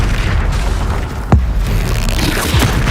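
A fire spell detonating in the game Hogwarts Legacy, a loud, dense, continuous booming roar with heavy low rumble and two brief sweeping whooshes, close and sustained throughout.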